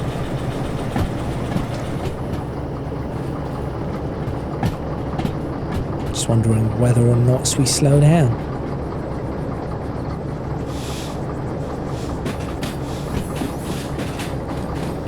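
A train rolling on rails in the Derail Valley simulator, a steady rumble and rhythmic clatter with a louder burst of tonal wheel noise midway, while someone talks over it.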